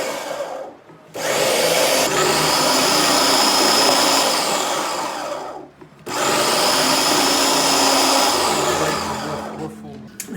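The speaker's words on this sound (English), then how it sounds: "This is how we slice the pepper." Hot peppers fed through a slicing machine, two long whirring motor runs of about four seconds each separated by brief pauses, loud and close.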